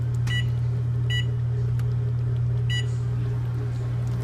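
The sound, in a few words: microwave oven beeping as cooking time is set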